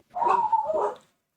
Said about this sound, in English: If you can hear my dogs in the background, I'm sorry.